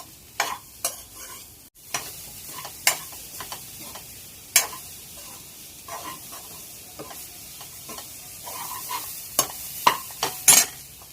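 Chopped ripe plantain sautéed in ghee in a pan, a soft sizzle under repeated sharp scrapes and taps of a spoon against the pan at an uneven rhythm, with no talking.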